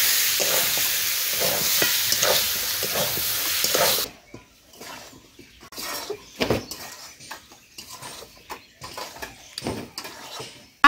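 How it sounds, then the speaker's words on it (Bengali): Bone-in meat fries with spices in a pot for a village home biryani, sizzling loudly and steadily at first, then giving way to scattered close scrapes and clatters of stirring. "মাংসগুলো কষিয়ে নেবে মশলা দিয়ে।"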